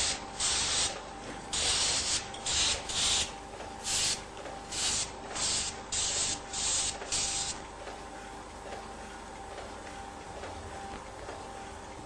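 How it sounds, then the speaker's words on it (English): Compressed air blasts dry the filter of a Heidelberg GTO offset printing press, a run of about ten short, loud hissing bursts in a steady rhythm over several seconds, followed by quieter background hum. "The use of compressed air is one way of achieving this."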